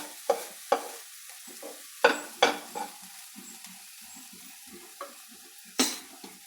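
Amaranth bean thoran being stirred and pushed aside in a pan, with a series of sharp scraping clacks of the spoon against the pan over a faint, steady sizzle.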